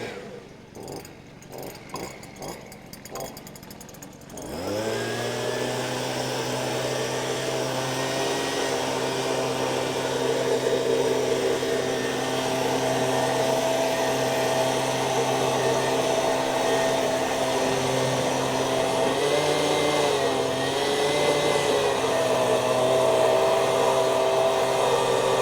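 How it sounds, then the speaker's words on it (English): Air blower blasting century-old dust out from under weatherboards along a house's bottom plate, starting abruptly after a few seconds of rattling and then running as a loud, steady whine throughout. "going to blow out 100-year-old dust in a few moments"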